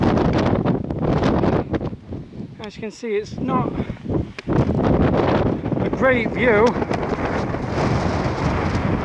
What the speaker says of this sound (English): Very windy and